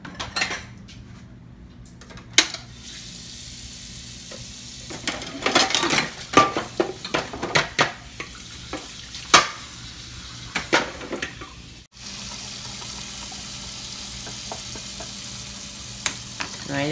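Dishes and cutlery clatter and clink in an irregular series of close, sharp knocks over running water or background hiss, with no one speaking.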